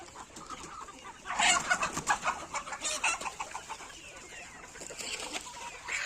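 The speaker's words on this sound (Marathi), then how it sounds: "आपल्या ह्या कोंबड्या आहेत प्युअर गावरान" Several free-range desi chickens cluck and chatter close by on a farm in the evening, a busy flurry of clucks in the middle, then quieter, over faint outdoor background.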